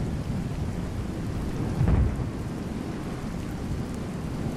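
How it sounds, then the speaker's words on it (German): Steady rain pours down during a thunderstorm in the video game Regiments, with a low thunder rumble swelling near the middle and no speech. "Es regnet doch jetzt."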